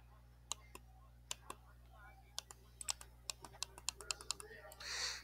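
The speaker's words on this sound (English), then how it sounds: "This is the clicking sound." Middle mouse button clicked repeatedly while playing Minecraft, producing sharp, close clicks that are sparse at first and then come faster, alone in a quiet room.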